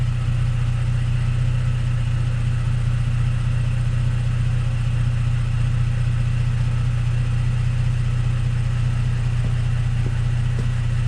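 A 2018 Toyota Tacoma idles through an aFe 3-inch Mach Force-Xp exhaust with a steady, deep exhaust rumble, constant and close, with no talking.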